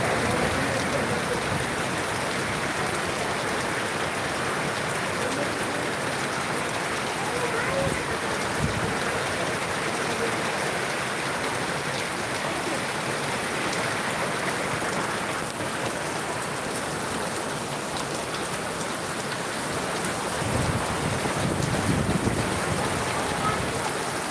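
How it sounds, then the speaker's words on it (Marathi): Heavy rain falls on a farm in a steady, loud wash, with low rumbles of thunder rolling in the background, one swelling near the middle and another deeper roll toward the end. "किती पाऊस येते ते काय नाही ते भयानक गर्जनं चालू आहे"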